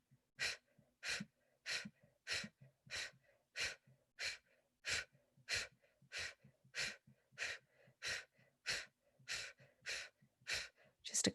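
During a breathwork session, someone breathes in a fast, steady rhythm, with about eighteen sharp, forceful exhales through the mouth. Each breath is clear and close in an otherwise quiet room.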